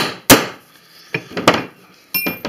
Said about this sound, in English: Take you a hammer and a chisel.